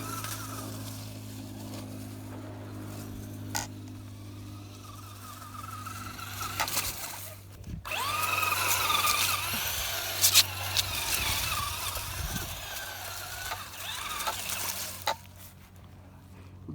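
A Traxxas Slash RTR RC car racing and spinning its tires, a high whining motor and chattering tire noise rising and falling at moderate distance over steady background hum.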